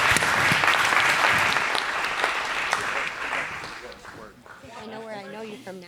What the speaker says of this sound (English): give the panelists a big round of applause